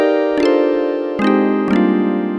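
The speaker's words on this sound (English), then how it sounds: "I'm just making like kind of like a strummed pluck" A strummed pluck patch played on the Ableton Drift synthesizer gives three bright chord hits, each a quick smeared attack settling into a sustained, harmonically rich tone, clean and alone.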